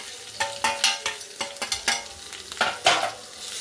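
Chicken with ground masala paste is stirred in a pan for kanthari chicken, with rhythmic spoon scrapes over a light sizzle, close and with no talking.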